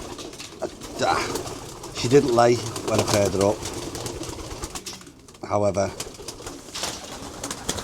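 Racing pigeons cooing in the loft, soft throaty coos repeating close by while someone talks over them.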